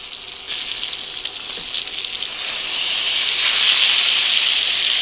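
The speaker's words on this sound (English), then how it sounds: "put your thin cut pork chops in here" Thin-cut pork chops fry in a hot pan, a loud, close, continuous sizzle and hiss that grows stronger partway through and holds steady with no talking.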